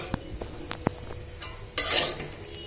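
Bitter gourd fries in a pan: a few light taps and scrapes of a utensil, then a sudden loud rush of sizzling that fades slowly.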